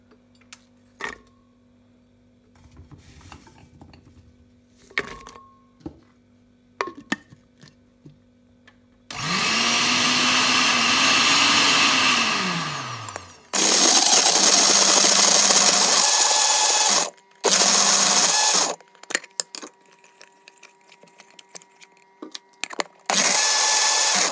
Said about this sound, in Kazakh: Біз келесі кезекте апельсинімізді блендердің көмегімен өткізіп аламыз.